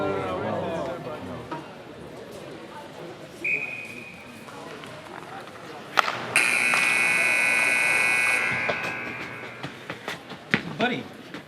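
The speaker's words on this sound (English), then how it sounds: "That was the end of the period buzzer." A long, loud, steady electronic buzzer marks the end of a hockey period over an arena crowd. A shorter tone sounds before it, and thuds and voices follow.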